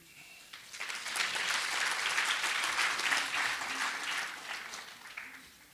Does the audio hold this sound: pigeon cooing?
no